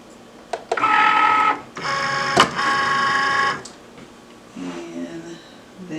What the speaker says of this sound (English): I have to load the mat into the Cricut.